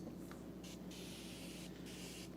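Soapy water sprays from a brass pump sprayer with a double hose and fan tips, loaded with a few ounces of soap, during window tinting on a Mazda 3 hatch; steady close hiss with a few brief bursts over low room hum.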